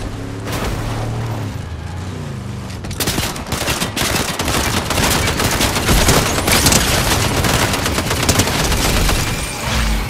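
Dense, continuous automatic gunfire and bursts in a Fortnite Zero Build duos match, loud and close, layered with explosions and booms throughout with no talk.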